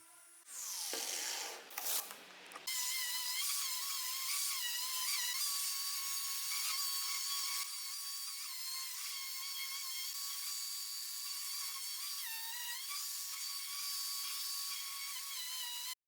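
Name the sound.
sanding an old wooden table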